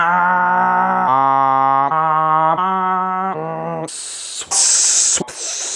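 An air compressor in a home garage drones with a steady, loud, humming motor tone that shifts pitch in steps, then breaks into a harsh, close burst of hissing air that cuts out briefly and resumes.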